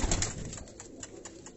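Teddy and Rampuri cross pigeons coo on a rooftop loft in Karachi, soft repeated calls pulsing steadily over a low background hum, fairly close and moderately quiet.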